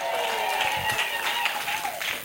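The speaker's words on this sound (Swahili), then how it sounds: "Piga vigelegele na makofi kwa Yesu maana Mungu aliye hai." A church congregation clapping and ululating, high wavering trills over a busy wash of hand claps, loud and close throughout.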